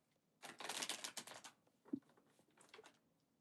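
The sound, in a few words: shuffling a deck of tarot cards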